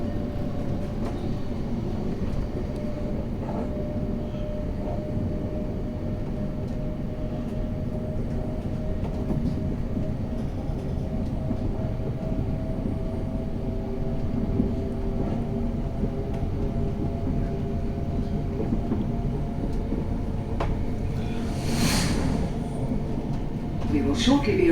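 A Thameslink passenger train running from Welwyn Garden City to Sevenoaks, heard from inside as a steady, continuous rumble and hum of the carriage in motion, with a brief brighter hiss near the end.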